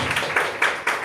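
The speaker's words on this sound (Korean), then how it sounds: "박수 부탁드리겠습니다" Audience applause at a corporate HRD training seminar, a short burst of scattered clapping with rhythmic surges, moderately loud and close, with no talk over it.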